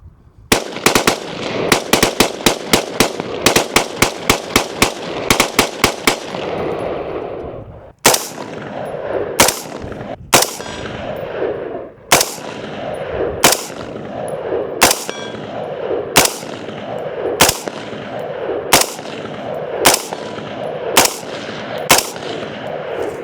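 Loud firearm in the Arizona desert, fired with a binary trigger: a rapid string of sharp cracks for several seconds, then evenly spaced single reports about once a second, each ringing briefly in open air.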